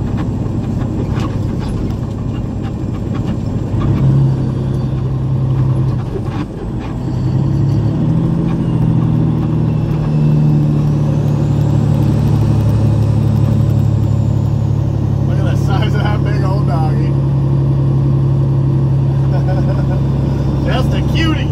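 A fully loaded, straight-piped, high-horsepower truck with a Caterpillar engine rumbles loudly through a residential subdivision, its deep exhaust drone swelling and holding close while people talk over it.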